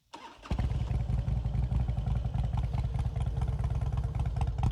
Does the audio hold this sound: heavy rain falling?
no